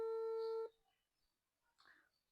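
A telephone call's ringing tone plays as a single steady, loud tone for under a second, then cuts to near silence with a faint, brief voice-like sound shortly after.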